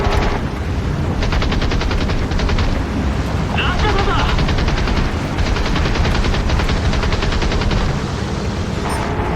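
Aircraft machine guns rattle in rapid bursts during a Birds of Steel air battle on Xbox 360, loud and dense over a roaring engine and battle din, with short pauses between volleys.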